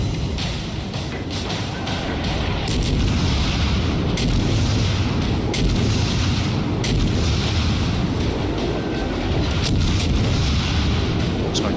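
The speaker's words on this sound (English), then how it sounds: "Keep on firing high explosive for now because we don't need to use armor piercing." Naval guns fire high-explosive shells in World of Warships from a Tier IV American Phoenix: repeated sharp booms at irregular intervals punch through a constant loud rumble of battle.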